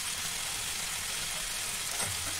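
Spiced semolina vermicelli sizzles in a pan, seasoned with red chilli powder, garam masala and coriander powder; a steady close hiss of frying fills the whole stretch with no talk.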